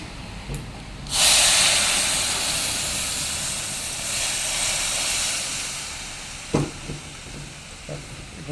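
Hot tempering with fried onion poured into a pot of sambar, giving a sudden loud burst of hissing sizzle that slowly settles into a steady crackle, with a few clinks near the end.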